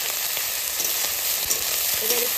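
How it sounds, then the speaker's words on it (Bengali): Shrimp with green chili, salt and turmeric fry in hot oil, a loud dense sizzling hiss that stays steady throughout, with faint stirring touches and no speech. "এবার একটু সুন্দর করে ভেজে নামাবো"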